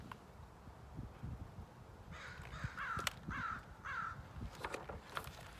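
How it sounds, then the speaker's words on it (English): Several crows cawing in a short series of harsh calls, moderately distant, over quiet outdoor background. "it was a mother crow and her children, and they stopped eating berries and flew away, saying, "Caw, caw, caw.""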